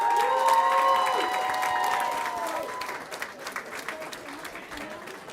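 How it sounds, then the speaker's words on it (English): An audience at a school board meeting applauds fifth graders as they come in, steady clapping of many hands that carries on after a voice speaks over the opening seconds and softens toward the end. "Let's give them a round of applause."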